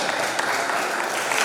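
Audience clapping during an Islamic public lecture on teaching methods and curriculum, a brief steady patter of many hands, moderately loud and even throughout.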